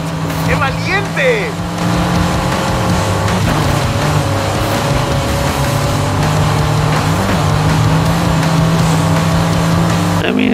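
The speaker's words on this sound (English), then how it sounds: "What a drift!" A car drifts through a racing game course, its engine droning steadily and loudly with a tire squeal layered over it, while a voice talks throughout.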